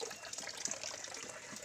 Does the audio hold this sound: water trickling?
yes